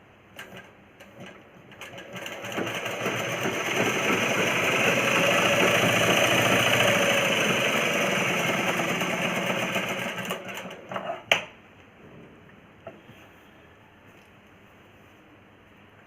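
Sewing machine running a double stitch on a plain cross-cut blouse, a steady whirring motor hum that swells and holds for several seconds, then stops abruptly with a click and quiet afterwards.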